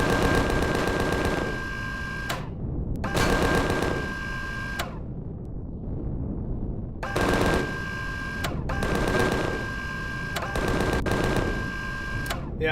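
Bursts of rapid automatic gunfire aimed at hovercrafts in Empyrion Galactic Survival, loud and close, coming in four or five sustained volleys a second or two long separated by short pauses.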